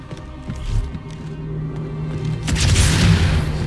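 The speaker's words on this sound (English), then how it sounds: "he took a freaking fuel rod cannon to the face and he didn't die" Fuel rod cannon fire in Halo 2 Anniversary on the Gravemind level, a run of dull booming shots followed by a big, loud blast with a hissing tail.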